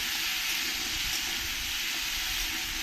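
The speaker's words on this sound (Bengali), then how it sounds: "সবজিগুলো ভালো করে আমি একটু ভেজে নেব" Mixed vegetables seasoned with salt and turmeric fry in a pan, giving a steady, loud broadband sizzle and hiss that runs unbroken throughout with no talking.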